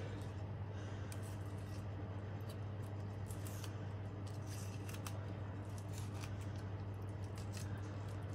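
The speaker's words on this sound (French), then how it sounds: "Je vais la couper en tronçons pour pouvoir la mettre avec les pommes de terre." Morteau sausage cut into chunks for potatoes, with sharp knife clicks and soft squishy slicing sounds scattered over a steady low hum, fairly quiet and close.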